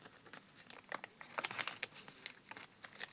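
A small paper surprise packet is opened up close, giving quiet, irregular crinkles and crackles with bursts of sharper tearing-like rustles.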